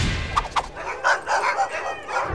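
Sled dogs barking, a run of sharp close barks and yips with brief whimpering tones in between, uneven in rhythm and fairly loud, no speech.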